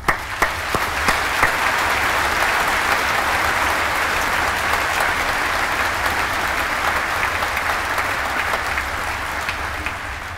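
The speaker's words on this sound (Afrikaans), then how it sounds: "En ek ons kan weer vir ons hande klap." Steady, full applause from a large graduation ceremony audience for theology and engineering graduates, dense clapping sustained evenly for about ten seconds with no voices over it.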